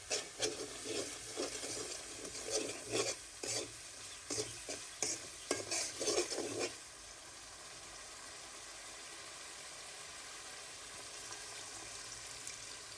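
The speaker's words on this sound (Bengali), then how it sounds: "সবগুলো মশলায় মিশিয়ে একটু কষিয়ে নেব" Spices for a village-style layer chicken bhuna curry are stirred and fried in a pan, giving rhythmic scraping strokes over a steady sizzle for about seven seconds, then a quieter continuous sizzle alone.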